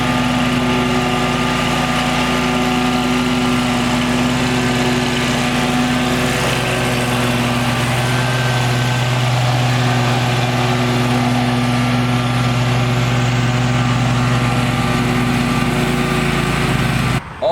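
A 2018 Gravely Pro-Stance 36 stand-on mower, driven walk-behind style, runs its engine in a steady, loud, close drone that holds unbroken throughout, with no talking.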